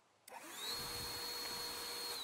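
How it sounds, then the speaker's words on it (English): A vacuum cleaner in the physics sandbox game Teardown switches on abruptly and settles into a loud, steady rushing roar with a thin high whine, running continuously with no talk. "I guess we could do the same thing with the vacuum cleaner."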